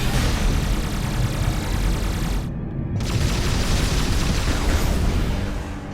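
A loud, sustained explosion from an anti-aircraft cannon being blown up in the Metroid Prime 3 video game, a dense rumbling roar that fills the whole clip with a brief dip partway through.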